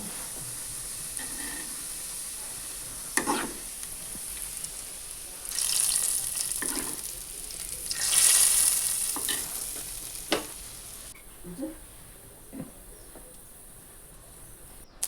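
Mustard seeds and cabbage fry in coconut oil in a pan, sizzling and crackling steadily, with bursts of louder frying hiss as food is added and stirred with occasional scraping clanks.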